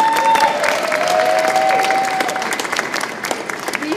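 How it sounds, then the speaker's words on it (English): A crowd at an Americans with Disabilities Act Day event claps steadily for the staff, a loud, dense round of applause with faint scattered voices and a brief whistle-like tone underneath. "we could give them a round of applause"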